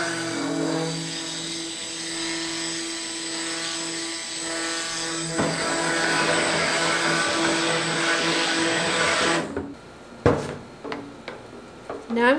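A blender whirs steadily as coconut milk is mixed into a soap batch. The motor drone is loud and even for about ten seconds, then cuts off, leaving a few clatters and knocks.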